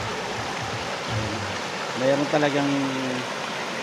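Water rushes steadily over a river spillway, a broad even roar close by, while someone speaks over it briefly.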